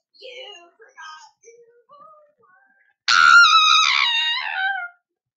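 A voice imitates the scream of the teacher chaser from a Roblox game, a loud, sustained shrill wail held for nearly two seconds after some softer murmuring sounds.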